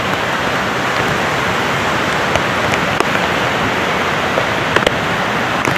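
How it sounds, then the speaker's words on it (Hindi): Heavy monsoon rain pours down steadily in a dense, even hiss during the 2023 flood in Kullu-Manali, India, with occasional sharper drops spattering nearby. "बहुत तेज़ बारिश है"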